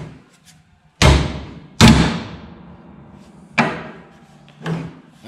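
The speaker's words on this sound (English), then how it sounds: "I really shouldn't bang the door" Door on a Land Rover Series 1 being closed repeatedly, four sharp slams with ringing metallic decay, the first two loudest and the last two softer, close up with no talk.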